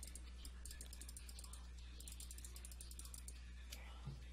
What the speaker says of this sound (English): Sorry if you guys hear my clicking. The mouse is pretty loud.